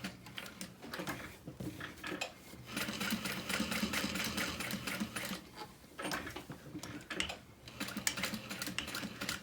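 A sewing machine stitches a handbag's strap connectors in rapid mechanical bursts, pausing briefly between runs, with small clicks and rattles from handling nearby.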